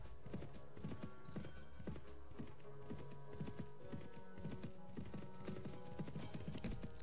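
Steady clip-clop of horse hooves while riding in the Mount and Blade Warband video game, a continuous rhythmic trot with a low hum beneath and a faint whinny, with no talk.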